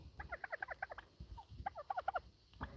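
Turkeys on a homestead gobble in two rapid rattling bursts, fairly close, with a short pause between them and another call starting at the end.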